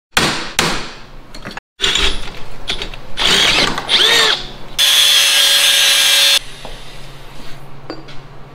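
Power drill boring a hole through the bent end of a metal bar, heard as a loud steady whine of about a second and a half amid clanks and rattling tool handling, close by, with no talk.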